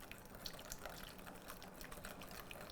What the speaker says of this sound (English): So I'm going to slowly stream in about 2/3 of this mixture